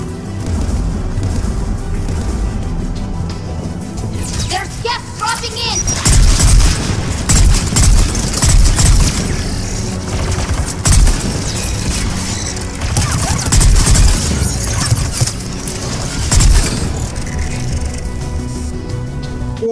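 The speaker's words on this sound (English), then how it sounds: "Here, we'll just shoot the mine." Dense, loud game combat in Mass Effect 3, with continuous gunfire, booms and crashing impacts, including a mine detonating after being shot, all rumbling together over about twenty seconds without clear speech.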